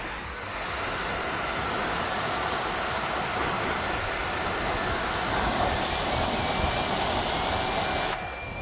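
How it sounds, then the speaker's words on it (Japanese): A high-pressure washer rinses wheel cleaner off a car wheel, giving a steady, loud hiss of spraying water that runs without a break for about eight seconds before it cuts off. "5分ぐらい経過したので高圧洗浄機で洗い流していきます"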